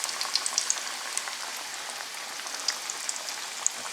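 Flamin Hot Cheetos-coated chicken frying in hot oil, a steady dense sizzle with fine crackles and pops, close and moderately loud, without talk.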